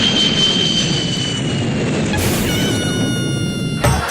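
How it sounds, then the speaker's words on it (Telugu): An airplane passing overhead, a broad steady roar that holds loud throughout with a faint high whine fading midway, no voices over it. "పైనుంచి ఫ్లైట్ వెళ్తుందిగా"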